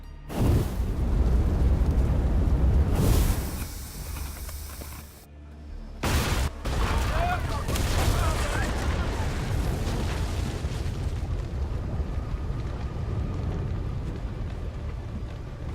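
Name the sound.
cannons firing on command, from video game Assassin's Creed Odyssey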